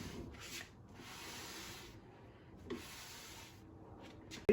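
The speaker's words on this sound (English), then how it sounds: "I'm just gonna be putting some on here and then you rub it down." An old t-shirt rubs finish onto the wooden back panel of a custom shelf case, giving soft, steady cloth-on-wood swishes in long strokes with brief pauses between them, close and fairly quiet.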